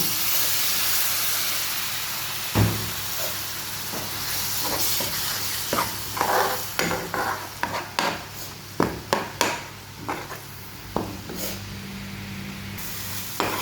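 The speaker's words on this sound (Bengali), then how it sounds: "আমি মশলাগুলো কষানোর জন্য জল দিয়ে দেব" Spices sizzle and hiss in a hot pan as water goes in, a burst of steam followed by steady frying noise with scattered crackles and stirring clicks, close and fairly loud, no talking.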